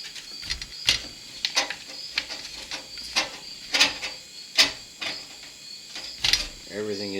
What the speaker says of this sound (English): I'll put these two nuts back on right here.